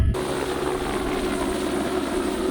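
An AS350 Écureuil helicopter lifting off, heard from inside as a loud steady turbine whine and rotor drone that holds constant throughout.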